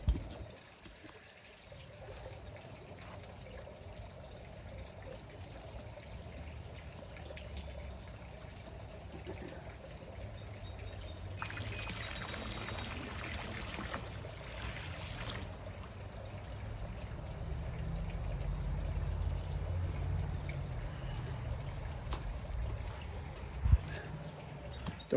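Liquid pool chemical, about a quart and a quarter, pours from a container into a swimming pool, making a soft continuous trickling stream over faint outdoor background hiss, with a brief brighter splash midway.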